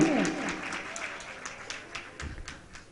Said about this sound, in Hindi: सबसे पहले तो उस भैया के लिए ताली बजाओ।